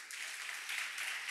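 Congregation at a youth church gathering clapping together, a dense steady burst of applause filling the space, fairly loud and continuous without pauses.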